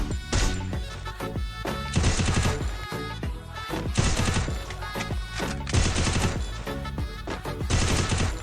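Loud gunfire from the video game Free Fire, played with a sniper setup, comes in repeated dense bursts about every two seconds, each a rapid crackling volley with short gaps between.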